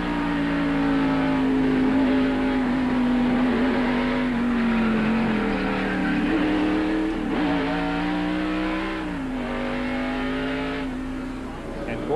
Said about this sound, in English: Let's look at this in-car camera from Jeff Gordon's car and listen to it as they go down turn three.